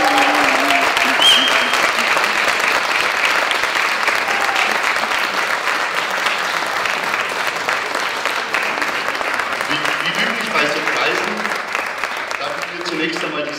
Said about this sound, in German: Herzlichen Glückwunsch nochmal, einen kräftigen Applaus von